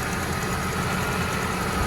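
A car engine idles steadily with a fine, rapid valve ticking running through its hum, heard up close under the open hood with no voices.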